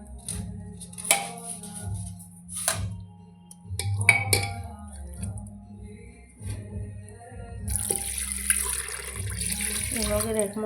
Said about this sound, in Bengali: মগের 1 মগ জল দিলাম